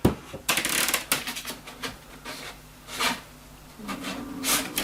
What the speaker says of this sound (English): let's take some sandpaper